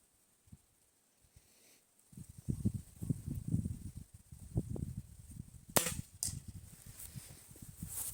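A quiet stretch, then a series of sharp, distant snaps and thuds at irregular intervals as Shanghai B1-1 air rifle pellets hit a target board, with a couple of brighter cracks near the end.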